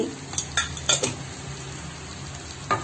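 Chopped tomato with chili powder and turmeric frying over browned onions in a pan for Andhra fish curry, a loud steady sizzle broken by several scraping stirs of a spoon and a light clink of metal, no talking.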